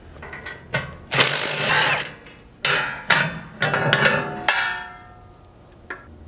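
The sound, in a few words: ratchet removing hitch bolts on Toyota Tundra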